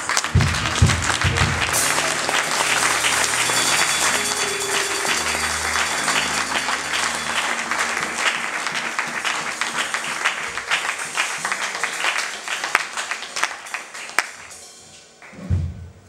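A church congregation bursts into loud, sustained applause and cheering to acclaim the Lord, a dense wash of clapping with deep thuds and sharp accents that gradually thins and fades toward the end.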